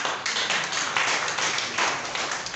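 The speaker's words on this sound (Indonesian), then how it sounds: "Berikan tepuk tangan untuk Tuhan" A church congregation at a Sunday worship service in Makassar claps together in a dense, continuous wash of hand claps, even and fairly loud throughout.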